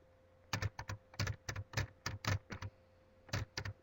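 Close computer keyboard typing, a quick irregular run of about a dozen crisp key presses in short bursts, with no talking.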